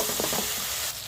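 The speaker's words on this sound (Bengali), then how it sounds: "মশলা খুব ভালোভাবে কষিয়ে নিয়েছি।" Masala paste being fried down for egg kofta curry crackles in the pan while a spoon stirs it in a few quick scrapes, then the sizzle settles to a softer hiss; close by, no voices.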